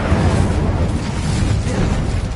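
Fire and explosive spell blasts, Confringo and Incendio, in Hogwarts Legacy, making a dense, continuous rumbling roar with bursting crackle throughout, loud and close.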